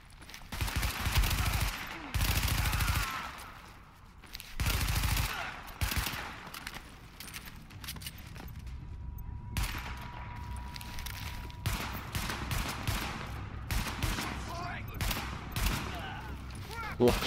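Gunfire in the video game The Division, bursts of loud, sharp rifle shots in clusters with pauses between, mixed with game sounds and intermittent speech.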